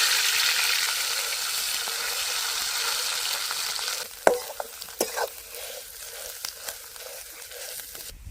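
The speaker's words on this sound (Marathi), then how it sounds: "तेल गरम झालंय पाट्यावर वाटून घेतलेलं वाटण" Stone-ground masala paste frying in hot oil for a brinjal curry on a wood-fired stove: a loud, steady sizzle for about four seconds, then quieter frying broken by sharp spoon knocks and scrapes as the paste is stirred.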